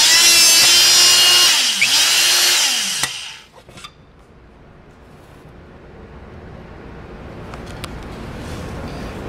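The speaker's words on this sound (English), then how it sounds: "we're gonna do another cut on a little bit slightly thicker piece of material." An electric hydraulic hole puncher, the MHP 20, works through a slightly thicker piece of material, a loud pump whine with a dipping pitch that cuts off sharply after about three seconds, followed by quiet room noise and faint clicks.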